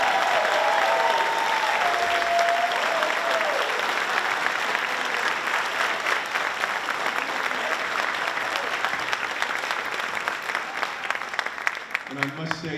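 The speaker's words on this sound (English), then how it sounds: "Let's give our students a round of applause." Sustained applause for students at a departmental awards ceremony, dense clapping that gradually thins toward the end.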